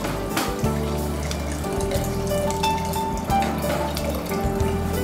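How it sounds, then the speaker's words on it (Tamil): Water poured into a cooking pot while making fish biryani, a steady splashing pour running for several seconds with a bright watery trickle and some clinking, close and fairly loud, with no talk. "இது வாட்டரும் ஆட் பண்ணுவோம்"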